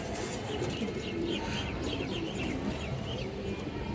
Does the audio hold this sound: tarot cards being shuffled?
no